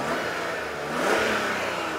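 A BMW E36 328i, warmed up, revs briefly with a mid-pitched engine rising and falling, heard close by with no talking.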